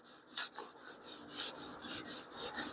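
A blade being sharpened on a sharpening stone, with close, even rasping strokes repeated about ten times in a steady back-and-forth rhythm, each stroke a bright gritty scrape with no voices over it.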